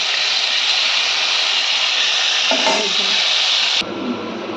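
Cauliflower florets frying in hot oil in a pan make a loud, constant hiss up close. A brief clatter comes near the end, after which the sizzle drops and softens. No voices.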